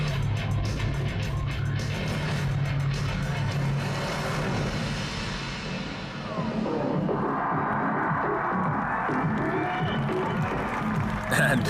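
Crowd cheering and applauding at a very wide, low supercar, a broad roar of voices mixed with engine noise that swells and stays loud throughout, with talk under it.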